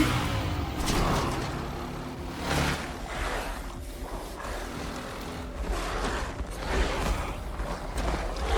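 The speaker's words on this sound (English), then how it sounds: "We're on the motorbike now." A motorbike ridden in Resident Evil Requiem gives a continuous engine drone that swells and eases in several rev surges, close and fairly loud, with no talk.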